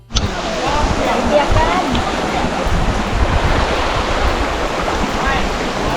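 Thi Lo Su waterfall in old-growth forest sends out a steady, loud, broadband roar of falling water that continues without a break, with faint voices mixed in under it.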